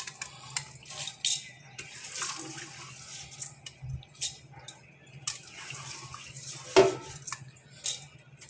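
Water running and splashing at a sink while a rice cooker pot is rinsed, with scattered clinks and knocks of the metal pot against the basin, close and fairly quiet.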